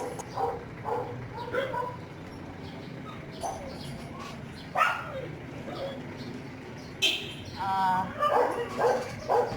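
Dogs at a home in the Philippines bark and yip in short scattered bursts, with some whimpering, mixed with birdsong and occasional voices in the background.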